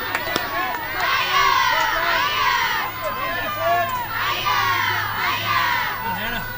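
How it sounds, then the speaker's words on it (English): High school softball players cheer and chant loudly from their bench at a state tournament game, in repeated shouted bursts that swell and fade against the background of the field. "The Wildcat team is cheering loudly from their bench."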